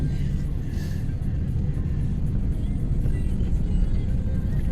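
Steady low road-traffic rumble from cars idling and creeping in congestion, a continuous heavy drone with no clear passes, with a voice speaking over it at times.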